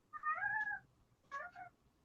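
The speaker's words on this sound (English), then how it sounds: "I hear a cat from somewhere." A domestic cat meowing indoors, heard as one drawn-out meow and then a shorter two-part meow a moment later, moderately close and with no talk over it.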